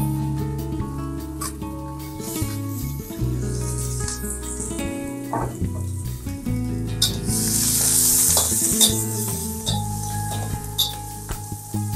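Onion, onion seeds (kalonji) and capsicum sizzle and fry steadily in a pan for a Bengali singara filling, with occasional stirring scrapes and clinks over a continuous hiss, no talking.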